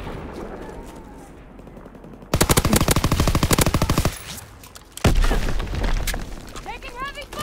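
Call of Duty WW2 gunfire crackles in loud, rapid machine-gun bursts, then a heavy blast and more fire. Game sound effects run throughout.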